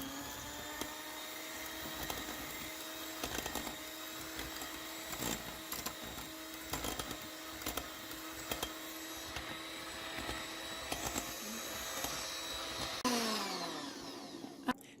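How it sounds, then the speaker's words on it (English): An electric hand mixer whirs steadily while beating sugar and egg yolk for an almond cake, with faint rattling knocks of the beaters against the bowl and a change in tone near the end. "I'm just going to go in with my mixer and I'll just"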